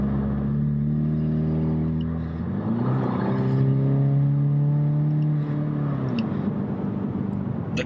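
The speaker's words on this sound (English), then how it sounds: "The car has a kick to it, even without the turbo kicking in." A four-cylinder turbo Ford Mustang accelerates close by, its engine note rising in pitch through a gear, holding a strained drone, then dropping as it eases off.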